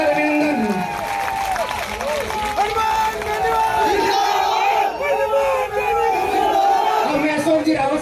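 A huge crowd at an RLP political rally in Roopangarh roars, cheers and shouts without a break, a dense and loud wall of voices with scattered clapping throughout.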